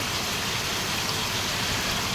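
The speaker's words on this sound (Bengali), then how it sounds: "কী লেভেলের বৃষ্টি হচ্ছে" Very heavy monsoon rain pours down in Ghatshila amid flooding, a dense, unbroken roar of falling water that stays loud and even throughout.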